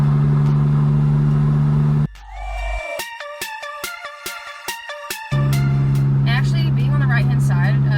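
A 1992 Suzuki Alto Works RS-R kei car drives on a main road, its steady low engine drone heard from inside, broken midway by a few seconds of bright tonal sounds before the hum returns.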